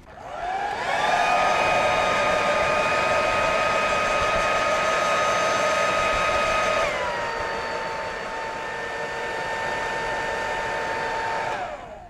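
A close, loud hair dryer runs for about eleven seconds, drying a solid coat of Tamiya XF10 flat brown paint on a diorama model, its whine dropping in pitch partway through as the setting changes.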